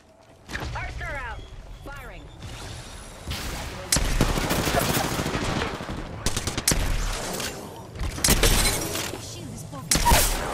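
Apex Legends gunfire rattles in repeated loud bursts through most of the stretch, with crackling impacts and a voice talking over the fighting.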